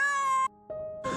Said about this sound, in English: It hadn't had a proper meal in who knows how long and meowed as it ate.